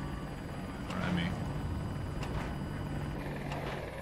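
A helicopter in the video game Battlefield 2042, a continuous, fairly distant rotor and engine drone that stays level throughout while players talk over it.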